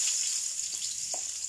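Onion going into a pan of frying chicken feet, a faint steady hiss of sizzling oil with a couple of soft stirring taps.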